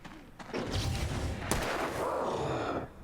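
A heavy gunshot in the video game Alan Wake lands with a deep boom and a sharp crack midway, surrounded by a sustained rumbling blast and echo lasting a few seconds.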